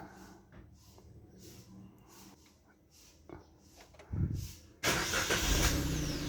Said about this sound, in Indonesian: kita sudah mengontak starter ya, bunyi mesinnya